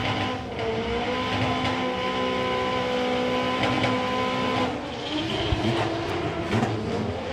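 A Honda Civic drag car, a ten-second doorslammer, roars down the strip at a drag racing meet, its engine a loud, sustained, busy drone with a shift-like change near the end.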